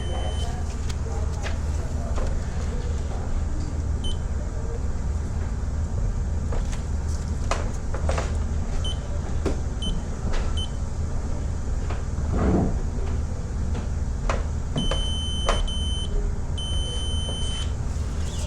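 A multimeter on continuity mode beeps across a circuit with a direct short to ground during an electrical repair, giving short, thin electronic tones late in the clip over a steady background hum, with voices nearby.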